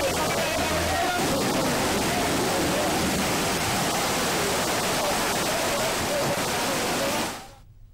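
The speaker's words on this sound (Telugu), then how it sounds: "రాజస్థాన్లోని జోధ్పూర్లో భారీ వర్షాల కారణంగా ఆకస్మిక వరదలు సంభవించాయి" Rushing flash-flood water after heavy rain in Jodhpur, Rajasthan, strong enough to sweep away two-wheelers, roars loud and steady for about seven seconds under a faint murmur of voices, then cuts off abruptly.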